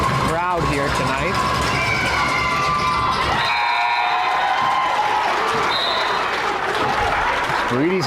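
A loud crowd cheers and claps in a gym at a junior boys high school basketball game, with a commentator talking over the steady roar and a sharp swell of noise partway through.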